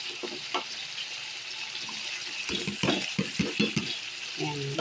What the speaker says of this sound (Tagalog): Nagisa na yung sardines. Kulo-kulo na siya.